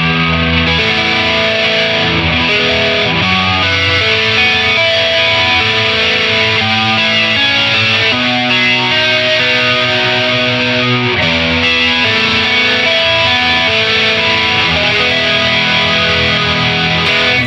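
A Stratocaster electric guitar plays a distorted arpeggio through a chorus effect, loud and close, with notes ringing and overlapping in a steady flowing pattern for the whole passage and no voices.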